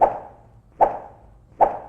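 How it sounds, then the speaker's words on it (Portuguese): Roblox jump sound made by swinging a wooden stick through the air: three evenly spaced short thumps, each a quick attack with a fading tail, clear and close. "Já o som de pular é um pedaço de pau batendo no ar."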